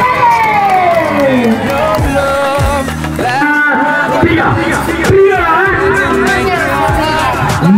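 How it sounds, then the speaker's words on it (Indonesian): A crowd at a madrasah award ceremony in Aceh Utara cheers and shouts loudly, with children's voices and chatter mixing into a continuous, energetic din that fills the whole stretch. "tepuk tangan untuk kita semuanya"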